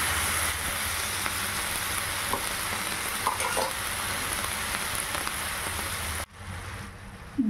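Spinach stirred and frying in a pan, a dense, continuous sizzle with a few soft stirring knocks, loud and close, cutting off abruptly near the end, leaving quieter room sound.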